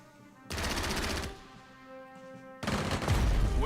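Bursts of rapid automatic gunfire from shooting enemies in a World War II-era strategy game, two loud sustained volleys separated by a quieter pause with ambient game sound.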